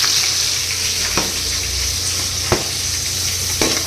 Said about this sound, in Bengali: তো এটাও ভেজে দিচ্ছি।